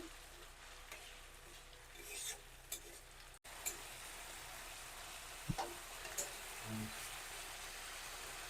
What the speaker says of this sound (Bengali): দুটোটা মিক্স করে নেব, এরকম নাড়াচাড়া করি